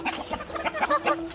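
Several chickens cluck in quick, overlapping bursts close by, with no talking.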